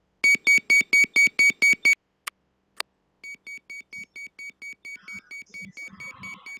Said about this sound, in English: In the cabin, the evacuation horn sounds